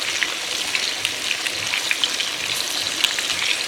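Onion rings fry and soften in a pan for chicken kababs in masala, crackling with frequent small pops over a steady hiss, close and fairly loud.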